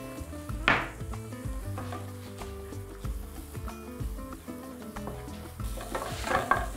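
Mushroom soup ingredients sizzle and fry in a pan as flour is added and stirred in, with scraping and clinking of utensils over a steady hiss and soft background music.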